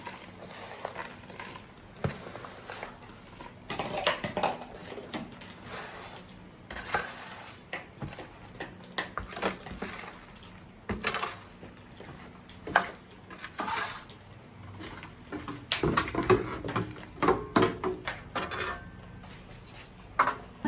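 Potting mix for a red Indo plant, including large pumice stones, scraped and stirred together in a basin, giving irregular gritty crunching and clattering bursts that come close and fairly quiet, with no talking.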